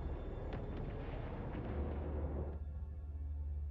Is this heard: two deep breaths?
no